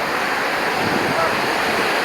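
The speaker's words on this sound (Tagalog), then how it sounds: "may alon siya pero basag na" Broken ocean waves washing onto a beach in Real, Quezon, a steady close rush of surf with no pauses, loud throughout.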